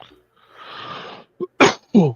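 A single close sneeze with a sharp breathy burst, then a few short vocal sounds and someone speaking right after.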